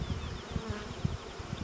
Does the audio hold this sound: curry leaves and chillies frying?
no